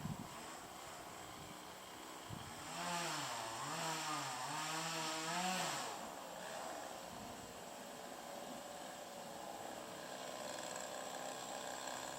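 A chainsaw or similar power tool working in manicured temple gardens at Engakuji in Kamakura, heard from a distance, its engine revving up and wavering for several seconds, then dropping back to a low steady drone.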